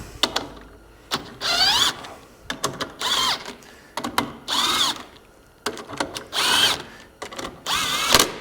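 An impact wrench working on a Polaris Sportsman XP 550 ATV fires in several short, sharp, close bursts, each followed by a brief quiet gap.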